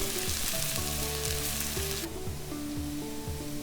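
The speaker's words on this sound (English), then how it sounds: "in a pan over medium-high heat, 2 tablespoons of olive oil, add garlic and shallot. Keep stirring" Garlic and shallot sizzle steadily in olive oil in a pan over medium-high heat while being stirred. The frying hiss is loudest for the first two seconds and then softens, with a tonal musical backing running underneath.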